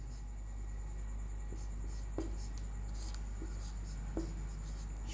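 Chalk or marker scratches and taps on a classroom board as a heading is written during a Class 10 biology lesson, soft intermittent strokes with a few light knocks over a steady low hum.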